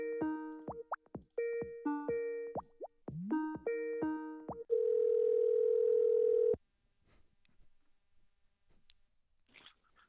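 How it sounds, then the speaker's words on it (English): Touch-tone keypad dialing on a telephone during an outbound call: a rapid run of short dual-tone beeps, then a steady, fairly loud ringback tone lasting about two seconds before the line clicks into faint background noise. "So, Anna, when it's dialing, just so you know, I can't hear you as well."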